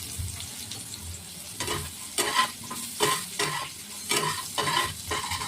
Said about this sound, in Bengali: উচ্ছেটা একটু ভালো করে ভাজবো, লাল লাল করে।